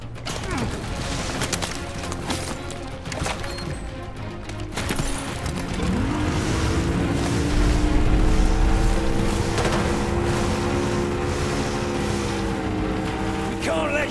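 An escape boat's motor rumbles up and holds a steady drone in the final mission of Call of Duty Modern Warfare 2 Remastered, rising after mechanical clanks and game noise and continuing loud without speech.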